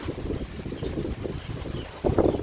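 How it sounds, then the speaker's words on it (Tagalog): Strong wind buffets the microphone in a continuous low roar, with a louder gust near the end and no one talking. "ang lakas ng hangin"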